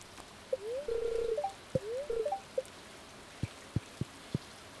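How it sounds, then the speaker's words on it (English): Frogs croaking during rain in the Stardew Valley video game, a series of odd rising, bubbly electronic croaks followed by several sharp, evenly spaced plinking taps over a quiet background, with no talk. "The frogs in this game sound so weird."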